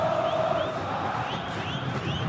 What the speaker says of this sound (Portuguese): Olha a torcida coxa branca aí, vivendo a sua empolgação